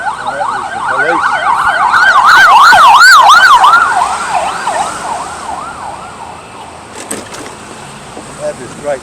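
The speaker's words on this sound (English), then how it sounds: "go everywhere with their sirens on." A loud wailing police siren sweeps up and down rapidly, passing close by before fading into the distance amid traffic noise on the streets of Bali.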